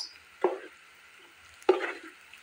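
Ground spices (turmeric, cumin, garam masala, coriander powder) frying in a pan, two short soft sizzling bursts with quiet stirring between them, close and low in level.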